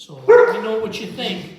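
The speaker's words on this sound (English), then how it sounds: "Sorry about my dog." A dog gives a short, sharp bark close by, overlapping a person speaking.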